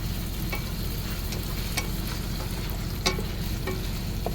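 Spanish chorizo sausage sizzles steadily in oil in a pan, a continuous close frying hiss with a few light clicks and a stir, in a meal cooked inside a truck.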